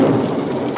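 Cartoon-style thunderclap from a storm in a Smurfs episode, a short broad rumble filling the whole moment with no pause.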